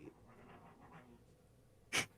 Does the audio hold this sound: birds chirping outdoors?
no